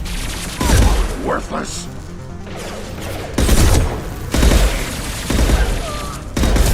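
Gunfire crackles in the Mass Effect 2 video game, arriving as loud bursts of rapid shots separated by calmer stretches of combat noise, while a voice shouts briefly between the volleys.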